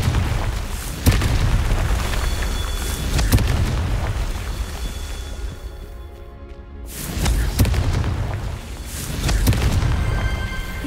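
Spell explosions from the Hogwarts Legacy video game, several booming blasts with deep rumbling bursts at about one, three and a half and seven to ten seconds, loud and full, with game ambience between.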